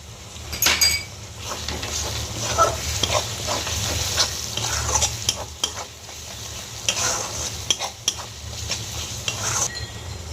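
Spice masala with green chilies slowly sautéing in a pan for chicken do pyaza, a steady low sizzle broken by scraping and stirring clinks of a spoon against the pan, close and without talk.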